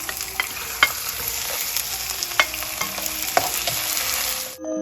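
Shrimp stir-fry with garlic in a hot pan, giving a loud, steady sizzle with sharp clacks of the spatula scattered throughout before it cuts off abruptly.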